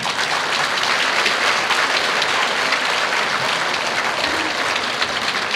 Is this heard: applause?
yes